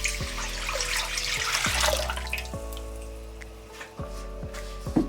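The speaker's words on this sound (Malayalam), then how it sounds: "ഞാനൊരു 3 കപ്പ് വെള്ളം ഒരു പാത്രത്തിലേക്ക് ഒഴിച്ചു കൊടുക്കുകയാണ്." Tap water poured steadily into a pot while making sugar syrup, a close liquid rush with dripping and brief clinks from a stove or metal pot, no voices.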